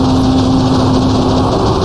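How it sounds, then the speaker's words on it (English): Vintage race car engine in the Assetto Corsa racing game, held flat out against the rev limiter, a steady loud high-pitched drone with a slight rapid flutter, alone with no talk. "Flat out bouncing off the limiter."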